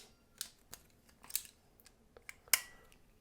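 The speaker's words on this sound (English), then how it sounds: "Trim that tag end short." Scissors snip the thread tag end while a tube fly is tied, giving a few faint, sharp clicks scattered through a quiet room, with one louder snip near the end.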